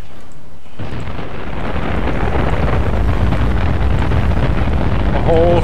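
A rocket lifts off with a sudden onset of broad, roaring rumble that swells and holds loud and steady for several seconds, with a voice briefly speaking over it.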